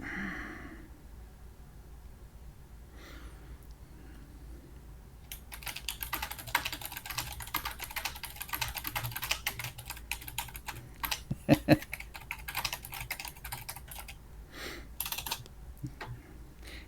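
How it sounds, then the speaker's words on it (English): Steady clicking keystrokes from a loud, clicky backlit computer keyboard, starting sparse and then running in dense, fast bursts close to the mic, with a few sharper clacks mixed in. "I have clicky keys for this keyboard. It's one of those backlit ones."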